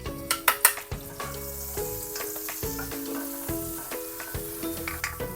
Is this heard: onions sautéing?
yes